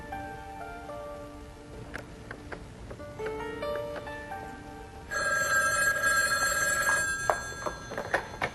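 A telephone bell rings in a quiet indoor setting, first in softer repeated trills and then in a louder, sustained ringing burst near the end, with no one speaking.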